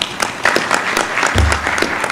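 Brief applause from the audience at a university spring graduation ceremony in Ethiopia, close and loud clapping with a low hum, a short burst over about two seconds.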